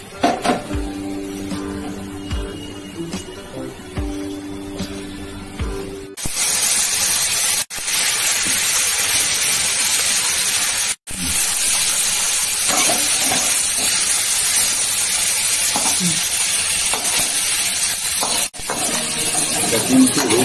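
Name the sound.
catla fish frying in oil in a wok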